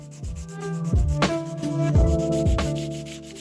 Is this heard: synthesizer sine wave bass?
no